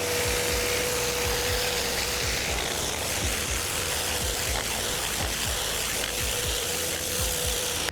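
A Karcher K7 pressure washer blasts paving slabs clean with a loud, continuous hissing spray and steady motor drone, close by and unbroken throughout.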